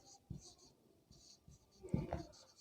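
Faint scratchy strokes of handwriting during a maths lesson, short bursts of pen or chalk on a surface separated by brief pauses, quiet and close.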